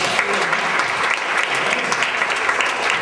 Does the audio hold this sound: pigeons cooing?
no